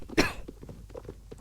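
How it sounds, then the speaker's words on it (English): A single sharp cough up close, followed by faint rustling and small knocks in an otherwise quiet room. "So sorry for all the coughing."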